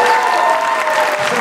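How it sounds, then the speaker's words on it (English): A room of people at a campus preview event applauds for a speaker's daughter, a loud, dense wash of clapping close by that holds steady through the brief moment. "Give her a nice round of applause,"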